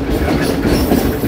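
A Yamuna Express train from Jaynagar, bound toward Amritsar on Indian railways, passes with a loud, continuous, close rumble and faint rhythmic wheel clatter throughout.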